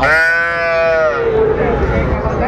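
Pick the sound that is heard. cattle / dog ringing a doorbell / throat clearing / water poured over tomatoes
cattle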